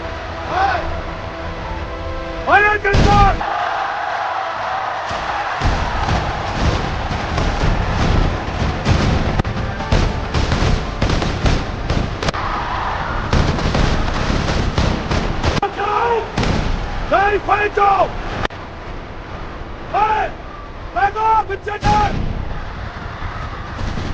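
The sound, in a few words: soldiers' rifle fire in a dramatised reenactment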